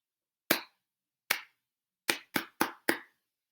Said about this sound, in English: Hopefully you're clapping it back to me each time